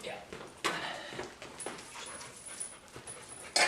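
Chloe, a dog in an adoption training program, pants and gives faint high whimpers close by, mixed with people talking and a few sharp bumps.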